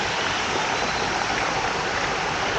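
A small waterfall splashes into a resort pool, producing a steady, dense rush of falling water that fills the space continuously without pause.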